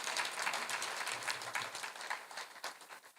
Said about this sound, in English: can we give them another warm round of applause?